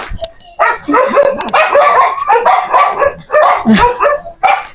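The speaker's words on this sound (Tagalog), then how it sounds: "Ito pa po yung aso." A dog barks repeatedly and excitedly up close, a long run of loud, rapid barks and yips.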